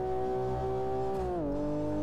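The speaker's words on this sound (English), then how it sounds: "Nice engine though." A BMW E36 race car engine on the Bahrain track, a steady sustained tone heard from on board that drops slightly in pitch toward the end, with no talk.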